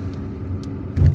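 A car drives through the streets of Algiers toward the Kouba Stadium, its steady low engine and road rumble swelling louder near the end, with no voices.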